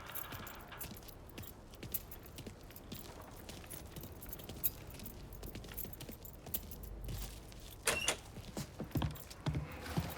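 A set of keys jingles and rattles in the video game Mafia III, repeated metallic clinks scattered across the stretch with soft mechanical clicks and a louder clatter of jangles toward the end, no voices.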